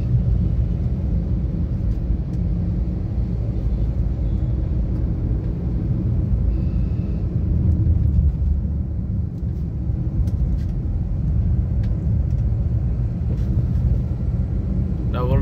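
Steady low rumble of road traffic on a double-lane road outside Chattogram city, vehicles passing continuously at moderate distance, with a faint voice speaking underneath.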